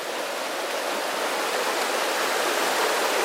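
A river rushing below a steep bank, heard as a steady broadband wash of flowing water that stays even and close throughout, with no voices over it.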